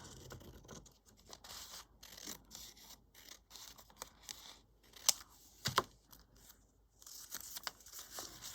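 Scissors cutting paper for a mini envelope, a run of soft scratchy snips and rubbing close by, with a couple of sharper clicks and no talking.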